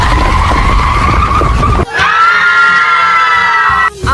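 A bus skids out of control, its tires letting out a loud, sustained screech for about two seconds that cuts in sharply after a rumbling, noisy lead-in.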